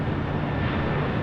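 A Boeing 747 rolling down the runway for takeoff at LAX, a steady loud roar of jet engines heard from a distance, continuous with no break and no talk.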